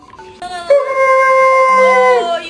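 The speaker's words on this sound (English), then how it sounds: "this is what it's like to have a chihuahua." A chihuahua howls up close in one long, wavering, high-pitched cry lasting about two seconds, rising and then trailing off, preceded by brief whimpering.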